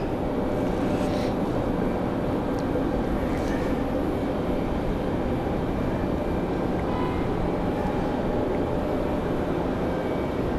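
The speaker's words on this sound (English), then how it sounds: "So we're going to have another departure in just a moment." Airliner departing the runway at Raleigh-Durham International Airport after a storm, a broad, steady roar of jet engines that stays loud and constant throughout, heard from a distance with no talking.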